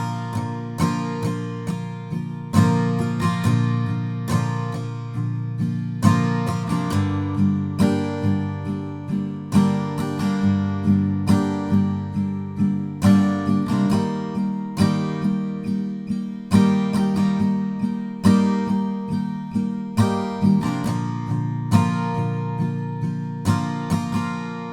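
Acoustic guitar strums the easy verse chords of a song, a steady repeated strumming pattern, close and clear with no voices.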